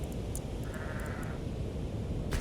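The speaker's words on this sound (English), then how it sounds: "there are sheep on the island to shear." Sheep bleat in the Aloft video game, on a sky island where they wait to be sheared; a single wavering bleat carries over a steady ambient game bed, with faint chimes and a brief hiss near the end.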